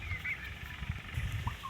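Five turkey poults on a farm, out foraging for grass, give faint, brief high peeping calls over a low background rumble.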